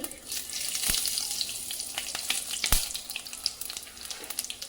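Cumin and hand-crushed coriander seeds frying in oil over low heat, a bright crackling sizzle with dense small pops and two sharp knocks, close and with no speech.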